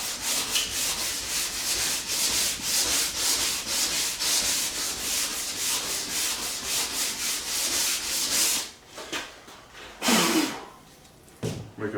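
Sandpaper rubbed back and forth across the body of a Cutlass car during paint prep, a loud rhythmic scratchy rasp close up, stroke after stroke, then breaking into a few scattered rubs near the end.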